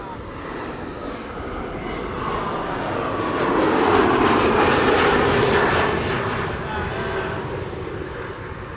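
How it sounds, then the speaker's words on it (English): An Embraer 175 jet airliner landing on runway 36 right at Amsterdam Schiphol airport makes a broad roar that swells to a peak and slowly fades, with voices faintly mixed in. "there's number 175 arriving from Billund, now landing on runway 36 right"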